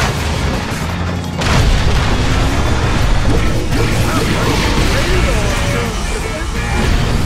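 Loud crashing blasts and booming impacts from a high-level weapon in the Cars 2 racing video game, dense and continuous under engine roar and game noise, with a brief voiced line over it.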